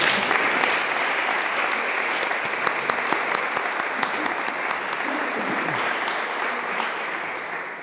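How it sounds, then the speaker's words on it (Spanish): Applause from the audience at a public history forum in Sanlúcar, Andalusia, a steady, full round of clapping across the room that carries on evenly and tapers slightly near the end. "Un aplauso a Eduardo Corona Pérez"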